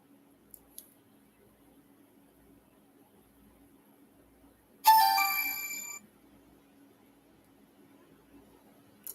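A phone gives a single Discord notification chime, a bright tonal burst lasting about a second, against a quiet room with a low steady hum and a few faint clicks.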